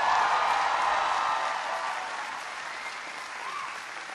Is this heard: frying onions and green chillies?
no